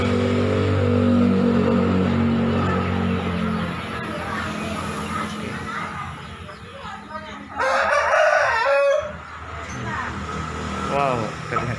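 A Pakoi breed rooster from Makassar crows loudly over a steady background hum, with a voice talking and traffic sounds around it.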